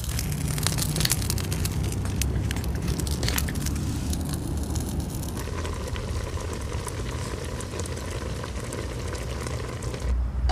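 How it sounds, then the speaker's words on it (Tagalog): Steady crackling and sizzling of food grilling over an open fire, continuous and close, with a low rumbling background throughout. "At sinabay ko na din tong iniihaw kong daing pampares."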